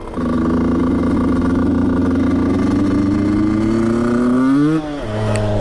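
A 125cc motorcycle engine revs hard and steadily climbs in pitch during a wheelie attempt, then drops off sharply and settles back to a lower drone; loud and close.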